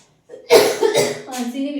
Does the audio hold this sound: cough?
yes